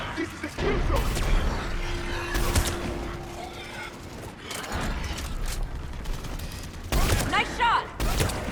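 Gunfire in the Mass Effect video game during a battle against Reapers, with bursts of shots and mechanical clatter that come and go across the stretch while characters talk over the combat.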